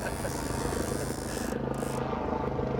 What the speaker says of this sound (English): They're flying in the news helicopters to catch us.